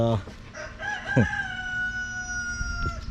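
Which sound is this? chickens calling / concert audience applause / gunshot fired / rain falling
chickens calling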